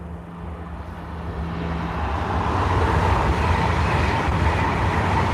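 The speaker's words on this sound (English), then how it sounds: "I think I can hear a train coming." A train approaching on the East Coast Main Line, a broad rumbling roar that swells steadily from moderate to loud and holds near, with no talking.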